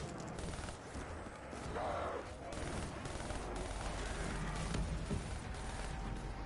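Dense, continuous gunfire from a Black Ops 3 Zombies match, shots rattling fast and overlapping for several seconds at a steady loudness, with players talking faintly underneath.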